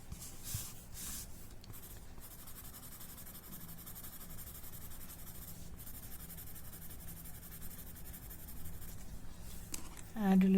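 Pencil graphite being shaded and blended on paper gives a faint, continuous scratchy rubbing against the paper. A soft bump comes near the end.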